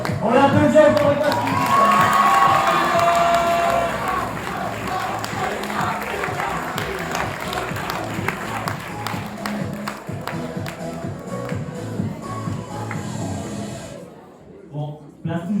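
Applause and cheering greet a prize winner at an eloquence contest final in Joué-lès-Tours, loud clapping mixed with shouts and whoops at first, then steady clapping that fades out toward the end.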